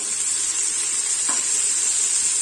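Ingredients for chicken biryani fry in a pressure cooker with a steady, loud, close sizzle and one brief stirring scrape, no talk.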